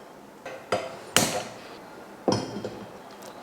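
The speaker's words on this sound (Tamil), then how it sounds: "கத்திரிக்காய் கட் பண்ணிக்கலாம்" A knife chops eggplant on a cutting board for a stir-fry, giving a few sharp, close thuds spaced irregularly against quiet kitchen background.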